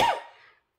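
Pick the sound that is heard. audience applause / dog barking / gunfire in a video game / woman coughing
woman coughing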